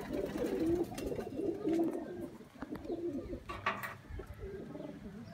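Pigeons in a loft giving soft, low, repeated coos at close range, several birds overlapping in a steady murmur with no talk.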